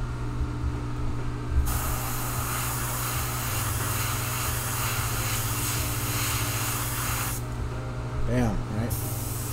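An airbrush sprays gray paint over a stencil for a rattlesnake design, giving a continuous close hiss through most of the stretch with short pauses near the start and end. Someone talks faintly underneath.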